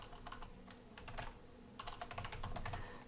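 Steady typing on a computer keyboard, with close, quiet clicking keystrokes in quick bursts that break briefly in the middle before the typing resumes.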